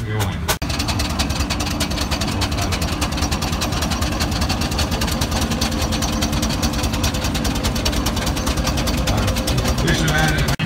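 Steam engine built in 1908 running at a steam show, a steady rhythmic mechanical chugging and clatter held throughout with outdoor show noise and a voice likely talking over it.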